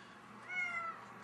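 A cartoon cat gives a single clear meow lasting about half a second, rising then falling, alone over a faint background.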